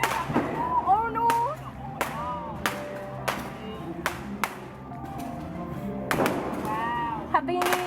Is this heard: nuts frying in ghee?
no